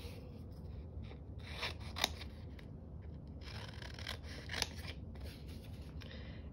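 Scissors snip through a paper sticker sheet while crafting a colour cube card, soft quiet cutting with a few sharper clicks of the blades closing, close up with no talking.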